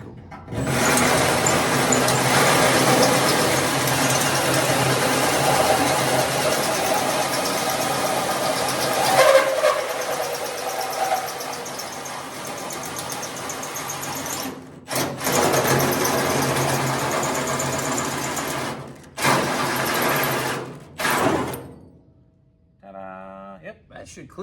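A power drill whirs steadily for a long stretch, pauses, then runs in shorter bursts, followed by brief talking at the end.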